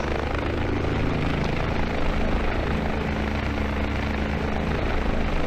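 A video-game helicopter, the Dani D-139, drones steadily in flight, its rotor and engine making a loud, constant whir with no break and no talking.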